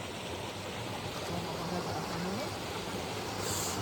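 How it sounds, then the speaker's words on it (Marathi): Water of a stream flowing over rocks near a small hidden waterfall, a steady broadband rushing that continues unbroken throughout. "हे बघा पाणी कसं वाहतं इकडनं"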